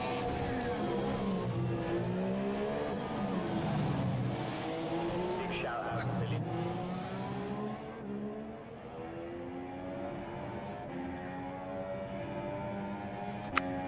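A racing car in a video game at Baku howls through the gears, engine pitch rising and dropping in repeated sweeps, while a commentator talks over it throughout.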